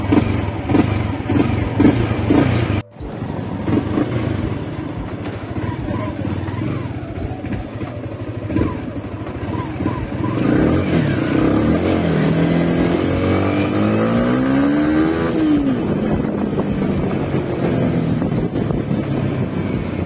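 A Yamaha Sniper 155 v3 motorcycle engine drones steadily up close with light wind buffeting, then revs harder, its pitch climbing and falling once in a clear swell near the end.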